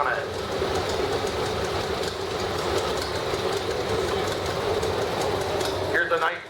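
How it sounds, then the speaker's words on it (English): A 1937 John Deere B tractor on steel wheels rolls past in a town parade, a loud, steady, close clattering rumble that lasts throughout, with voices faint underneath. "It's got the steel wheels on it."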